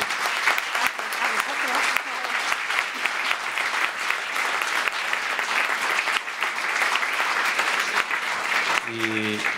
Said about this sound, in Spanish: Pido un aplauso para cerrar.